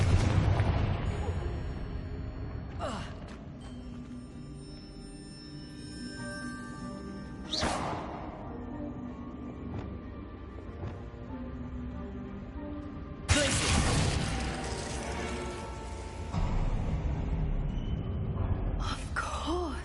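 The Confringo explosive spell goes off repeatedly in Hogwarts Legacy: several fiery booming blasts at irregular intervals, the later ones louder and broader, over quieter game ambience between them.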